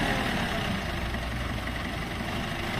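An Isuzu engine idles steadily after a clutch disc replacement, a low, even rumble with a slightly rattly exhaust, close and continuous without speech.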